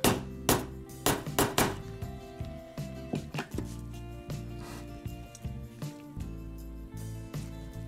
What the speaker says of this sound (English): I'll try to tap that down with the hammer